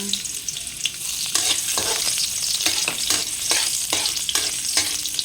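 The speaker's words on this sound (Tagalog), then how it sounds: "Maglalagay tayo ng mantika. Magigisa tayo ng luya." Sliced ginger sautés in hot oil with a steady close sizzle, cut by a string of sharp, rhythmic scrapes and taps of a spatula against the pan.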